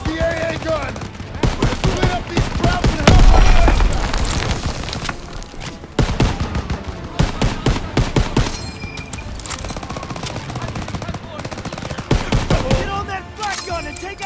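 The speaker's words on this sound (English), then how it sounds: "There's the AA gun." Anti-aircraft gun fire in the World War II shooter Call of Duty: WWII, dense rapid bursts with booming impacts and explosions throughout a chaotic battle, loud and continuous with brief lulls.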